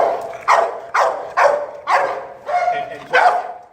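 A dog named Rasta barks aggressively in a pet expo training demonstration, six loud, sharp barks spaced about half a second apart, close and forceful, with a faint crowd murmur beneath.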